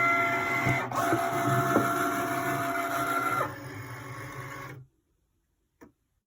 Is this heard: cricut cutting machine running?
yes